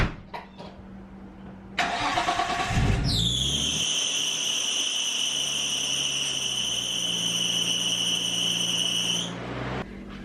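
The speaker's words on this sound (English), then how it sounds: "every time I start the car it makes this really screechy loud noise." A Nissan Skyline cranks and fires up, then an over-tightened alternator belt lets out a loud, sustained high-pitched screech over the idling engine for several seconds before cutting off.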